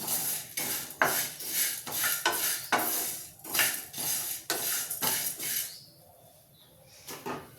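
A metal spoon stirring gongura pachadi, a tangy sorrel-leaf chutney, in a steel pot: repeated rhythmic scraping and clinking strokes about twice a second, close and crisp, pausing briefly near the end before one last clink.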